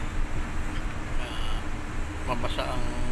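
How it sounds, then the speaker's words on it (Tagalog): Cars and trucks drive fast along a rain-soaked road by overpasses during a heavy downpour, a steady close hiss and rumble of traffic heard from inside a moving vehicle, with brief faint beeps and people talking. "Bilis ng takbo ng mga sasakyan o kahit sabihin mo na"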